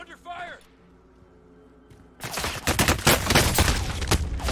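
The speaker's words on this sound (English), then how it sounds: "I'm hearing gunfire above ahead." Heavy gunfire in the Call of Duty Warzone video game, a dense sustained fusillade that starts abruptly midway and stays loud, after a quieter stretch with a brief voice at the start.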